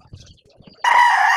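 A young stag rooster, four to five months old, lets out a sudden loud, sustained crow after a brief spell of faint, scattered clucking sounds.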